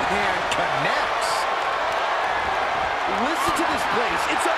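A dense, steady roar of an arena crowd cheering at a WWE 2K23 wrestling match fills the whole stretch without a break, with a commentator talking over it.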